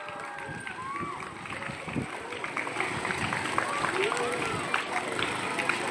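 An audience claps for a school karate performance by young kids at Viswabharathi Vidyanikethan, Buchireddypalem; scattered clapping builds into fuller applause beneath someone talking over a PA.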